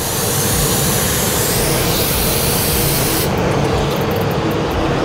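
A spray gun set to about 23 PSI lays P30B black sealer onto a board with a loud, continuous airy hiss. Partway through, the hiss changes character as the spray pass ends.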